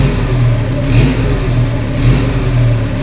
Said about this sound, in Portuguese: Vou dar uma aceleradinha aqui